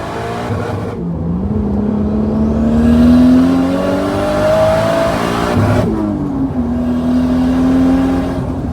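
A widebody Nissan S15 Silvia with an RB25DET engine accelerates hard, its engine note rising through the revs and briefly dropping at a gearshift before climbing again, loud and close with no talk.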